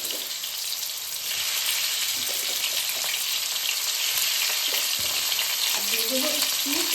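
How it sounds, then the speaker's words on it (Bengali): Potatoes frying in hot oil for mutton biryani, a loud, close, continuous sizzle with stirring scrapes and brief clinks toward the end. "এটা তেলেই কিন্তু ভাজা হবে আলুটা"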